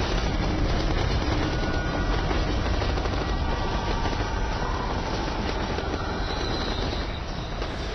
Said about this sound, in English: Let's wait for the train crash.